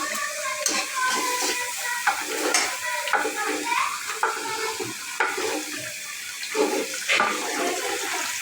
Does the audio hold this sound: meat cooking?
yes